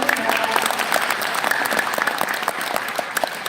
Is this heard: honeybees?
no